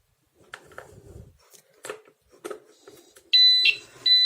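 Electronic beeping alarm of an Arduino-based smart stick for the blind, powered up on a bench; a few faint clicks and handling taps come first, then loud, sustained high-pitched tones that stop briefly and resume, with no talking.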